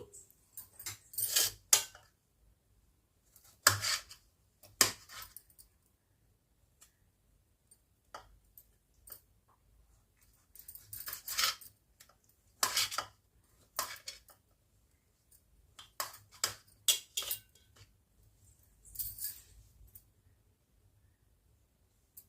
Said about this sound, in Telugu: ముందుగా టమాటాలు వాష్ చేసి చిన్న చిన్న ముక్కలుగా కట్ చేసుకుందామండి